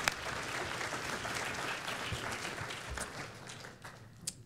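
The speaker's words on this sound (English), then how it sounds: "A round of applause." Conference audience at a medical session applauds steadily after a speaker, a soft, even wash of many hands clapping, fairly distant and without talk.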